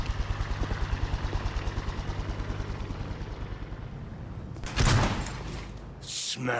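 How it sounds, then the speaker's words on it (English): A helicopter in the video game Cyberpunk 2077 gives a loud, steady rhythmic rotor chop with a broad engine roar, briefly swelling with a burst of noise before fading near the end. "There goes the helicopter."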